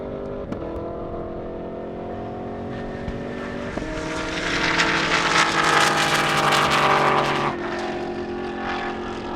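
Race cars, including a BMW M5 Competition and a Chevrolet Camaro ZL1, run at an airstrip speed event. A steady engine drone swells louder midway as a car passes, then eases back to a distant hum.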